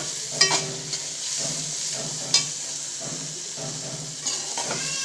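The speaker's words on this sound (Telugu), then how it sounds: "ఇంత అల్లం వెల్లుల్లిపాయ పేస్ట్ వేసుకుంటున్నాను. దీన్ని గోలే వరకు కలుపుకోండి." Ginger garlic paste sizzles steadily in hot oil with onions in a pan for a Hyderabadi egg biryani, with a continuous hiss broken by a few sharp stirring scrapes and clinks.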